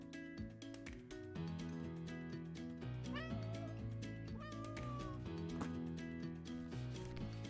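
A cat meows a few times in the Animal Shelter Simulator video game. The calls are short and sit over steady game music that fills the whole clip.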